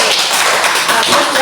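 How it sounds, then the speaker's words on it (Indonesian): A class of students applauding together, a brief burst of dense, even clapping that stays loud and steady throughout. "Oke, tepuk tangan lagi."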